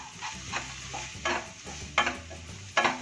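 Mutton curry with garam masala and coriander powder being mixed in a pot, a soft sizzle under rhythmic spoon strokes, about four scraping sweeps roughly every three-quarters of a second, close with no talking.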